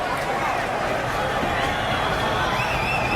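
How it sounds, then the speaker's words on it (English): A boxing arena crowd in Los Angeles roars continuously and loudly in the closing seconds of a fight, a dense wash of cheering and shouting with no break. "The crowd here in LA electrified"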